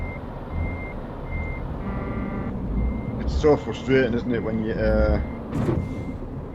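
Truck reversing beeps sound while a truck parks in Euro Truck Simulator 2, a steady repeating electronic beep over engine rumble, with people talking over the latter half.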